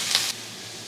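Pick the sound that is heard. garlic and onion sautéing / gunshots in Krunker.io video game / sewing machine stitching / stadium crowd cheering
garlic and onion sautéing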